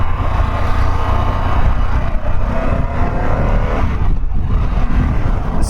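A 2022 Harley-Davidson Pan America motorcycle cruising on a highway near Raleigh, North Carolina, its engine a steady, loud, continuous drone mixed with wind rush, close and unbroken with no talking.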